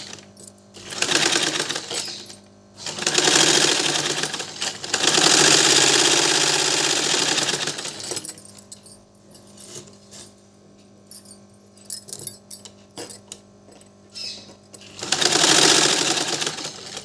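A sewing machine stitches a kameez in three loud bursts of whirring needle action, the middle one longest, separated by quieter stretches of clicks and fabric handling.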